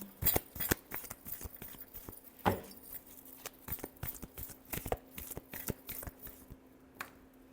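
Tarot cards being shuffled make a string of quiet, sharp papery clicks and flicks at irregular intervals, close by over a faint steady hum.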